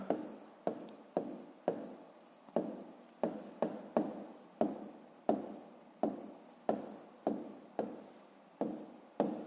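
Pen strokes scratching across paper while working a 5th-grade maths exercise, a steady series of about fifteen short, regular scribbling bursts, close and clear with no talk over them.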